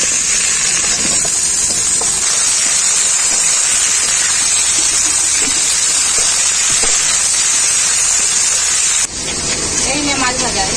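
Potatoes and eggplant hiss and spit steadily in hot oil in a home kitchen alongside fried onions, a loud continuous broadband frying wash that dips and changes character briefly near the end.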